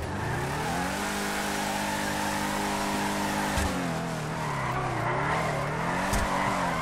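A widebody GTR drift car in GTA 5 skids sideways, its engine droning and shifting pitch as the tires squeal steadily, loud and close, with a couple of sharp thumps and no talk.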